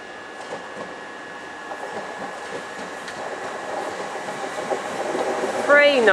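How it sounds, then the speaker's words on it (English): A high-speed train from London St Pancras pulls into Ramsgate station, its rolling rumble growing louder as it nears, topped by a sharp squeal of brakes at the end. "now we've got another train coming in, which should be the 12:28 service to Margate, which is the high-speed train from London St Pancras International."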